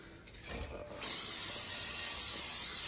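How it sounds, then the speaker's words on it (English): Non-stick cooking spray hisses from a can onto a metal bowl in a home kitchen, a steady, close, continuous spray lasting about two seconds after a short rustle. "Spray it down."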